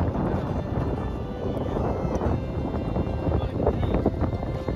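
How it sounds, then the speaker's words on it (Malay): Strong wind blows across an open salt flat in Qatar, a steady, loud, rumbling roar buffeting the microphone throughout with no break. "Angin kuat."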